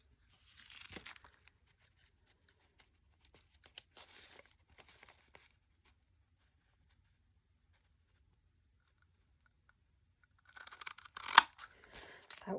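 Scissors snip paper to cut a thumb notch for Christmas ephemera crafting, with a short burst of close cutting at the start, then faint handling rustles and a louder run of snips and crinkling near the end.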